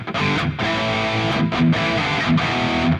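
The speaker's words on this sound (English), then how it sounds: "So let's add some reverb." Electric guitar played through the hall reverb of a MOOER Prime S1 pedalboard, loud sustained chords that ring out and blur into a wide, lingering wash between strums.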